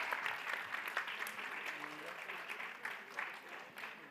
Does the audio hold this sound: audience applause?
yes